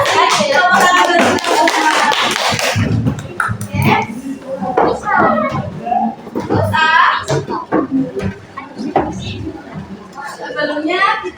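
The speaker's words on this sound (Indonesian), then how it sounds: "Tepuk tangan dulu." Children clap their hands in a classroom during an Indonesian language lesson: bursts of many hands clapping together, loudest at the start, mixed with children's voices and a teacher talking.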